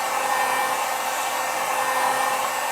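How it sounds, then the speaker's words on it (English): A heat gun blows hot air onto a vinyl skin on a Nintendo Switch Lite, a loud, steady, close whooshing hiss of airflow that holds even throughout, with no talking. "This is actually a heat gun."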